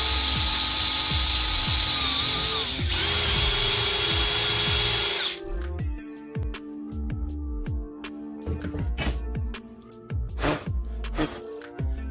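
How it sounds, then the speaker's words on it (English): A power drill bores a 2mm hole into a Reximex Pretensis air rifle part, whining loudly and steadily at first, then giving way to lighter clicking and ratcheting tool sounds close by. "I've started by drilling the hole"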